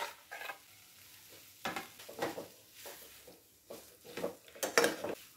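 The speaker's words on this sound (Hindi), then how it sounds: "तो 2 मिनट तक हम मसाले को आलू में भून लेंगे अच्छी तरह।" A spatula scrapes and stirs boiled potatoes and masala in a pan in uneven bursts, with soft sizzling from the frying in between.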